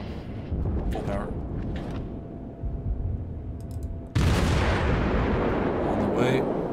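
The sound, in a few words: naval gunfire in World of Warships video game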